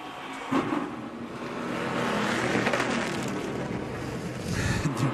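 A race car coasting on the last lap of the 2013 Nationwide Children's Hospital 200 NASCAR race, a steady engine and road roar rising and falling as the car passes, with a short tire squeal.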